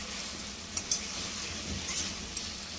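Chicken with spices is stirred in a pan for a ghugni dish, giving a continuous hissing sizzle with a few light spatula taps and scrapes, near and moderately quiet.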